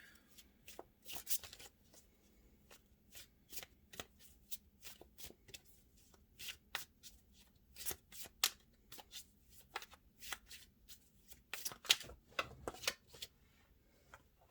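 Tarot cards are shuffled by hand in a quiet room, a run of soft, crisp riffles and slaps at an irregular rhythm, close and fairly faint.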